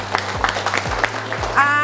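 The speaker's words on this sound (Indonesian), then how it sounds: "Ya, tepuk tangan untuk Gaby." An audience at a lecturer certification session gives Gaby a brief burst of clapping that runs under a voice speaking throughout.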